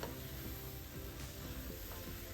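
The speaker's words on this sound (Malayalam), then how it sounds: "അതുപോലെ ഒന്ന് ഇളക്കി കൊടുക്കണം" Grated young jackfruit thoran mixture is stirred while frying in a pan, giving a steady soft sizzle with faint scraping, close and alone.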